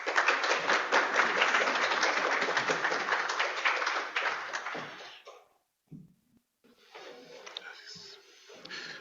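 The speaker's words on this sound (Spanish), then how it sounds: "Solicito que lo recibamos con un gran aplauso." An audience at a nursing lecture gives a speaker a big welcoming round of applause. Loud, dense clapping fills the first five seconds, cuts off abruptly, and is followed by a short pause and then a voice speaking.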